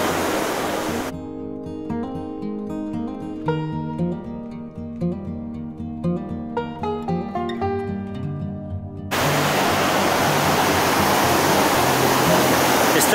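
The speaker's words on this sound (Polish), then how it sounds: "gdzie wypływa z niego taka wspaniała rzeka" A river flowing out of Lake Lovelnet in Norway's Loldalen valley gives a loud, steady broadband rush that opens briefly, gives way to music, then returns and holds strongly to the end.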